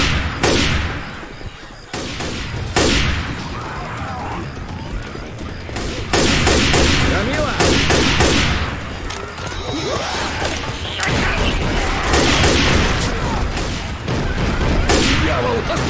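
Rapid bursts of gunfire crackle from several weapons in a Left 4 Dead 2 carnival level, dense and loud almost without pause, with a few heavier blasts and clanks mixed in.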